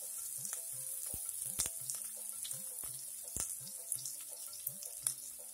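Panch phoron spices and chopped onion frying in hot mustard oil for an Assamese potato and sesame curry, a steady close sizzle with repeated sharp pops and spatters, no talking.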